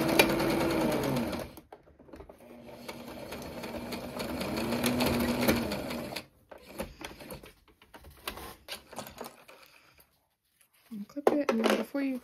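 A sewing machine stitches fabric for a cross-body bum bag in short, rapid mechanical bursts separated by pauses, close and clear, with brief quiet handling sounds between runs.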